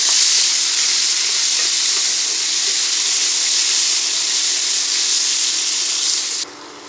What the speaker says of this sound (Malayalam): തക്കാളി ഒന്ന് ഫ്രൈ ആവട്ടെ.